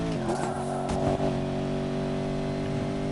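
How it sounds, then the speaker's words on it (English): Engine of a modified Porsche Panamera Turbo driving off-road in Need for Speed Payback, a deep, beefy drone holding a steady note with a brief flare of revs early on, running alone with no talk. "in the done-up Porsche Panamera Turbo, as you've seen. And as you can hear, it definitely sounds a lot beefier."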